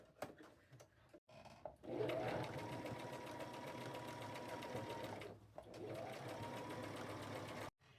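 A home sewing machine stitches patches onto a pair of pants, its motor whirring in two steady runs separated by a brief pause, with clicks and handling noises at the start and end.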